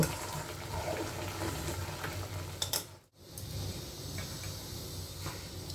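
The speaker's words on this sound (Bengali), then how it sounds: "আর একটা থাকনির সাহায্য জলটা ছেঁকে নেব" Water from boiled papaya drains through a strainer in a continuous close splashing hiss that briefly cuts out midway, then resumes; no speech.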